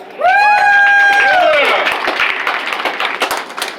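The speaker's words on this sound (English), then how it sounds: "by applause, how many of you folks know who Jack McCall was?" Audience applause and cheering at a Wild West shootout reenactment on a town main street, a loud burst of clapping that rises over a whistle-like shout and then thins into scattered claps.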